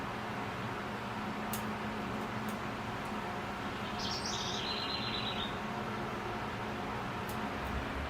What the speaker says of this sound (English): The birds you hear in the background are house wrens.